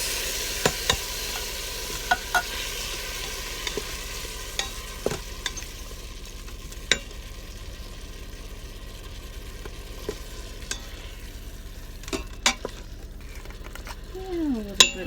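Tomatoes stirred into a sauté in an Instant Pot inside an RV kitchen, making a soft, steady sizzle with scattered clinks and scrapes of a utensil against the pot.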